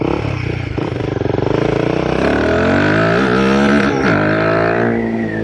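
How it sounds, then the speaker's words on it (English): A Royal Enfield Guerrilla 450 motorcycle engine with an aftermarket exhaust pipe revs hard up to the rev limiter, a loud, close, rising scream that stutters and bounces against the limiter before easing slightly, with no talk. "That was a rev limiter we hit."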